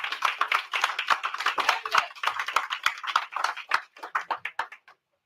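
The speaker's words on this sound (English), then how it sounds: "introduce yourself, everybody, clap it up" Audience clapping at a live-streamed media event as a guest is invited up, crisp individual hand claps in a brisk irregular patter that thins out toward the end, close and alone without talk.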